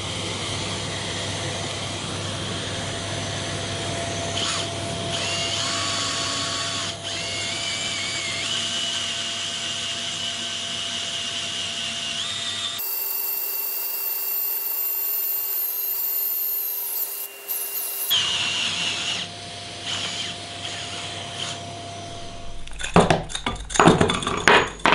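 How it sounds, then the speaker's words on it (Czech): A hole saw in a drill cuts into brick with the hammer action off. A steady grinding whir runs close and fairly loud. It pauses once for several seconds, then resumes with rougher, uneven scraping near the end. "Vrtá se bez příklepů."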